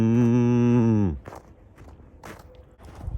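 A cow on a ranch gives one loud, sustained moo lasting about a second, followed by quieter shuffling and rustling noises.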